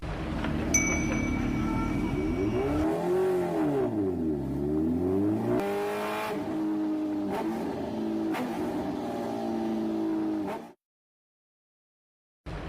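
A heavy motorbike, a model reportedly new to Pakistan, revs loudly and continuously, its engine pitch climbing and dropping in sweeping waves for about ten seconds before cutting off abruptly.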